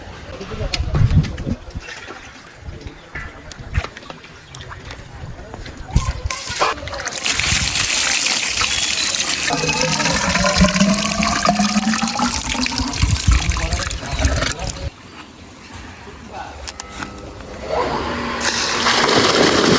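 A motor pump drains the last water from a nearly emptied fish pond, giving a strong, steady gush and splash of water that runs almost throughout, loud and close, with a brief dip near the end.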